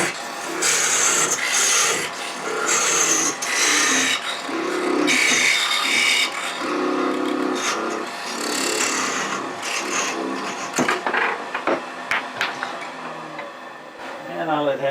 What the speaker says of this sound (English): I'm going to just part it off halfway for the 2 box blanks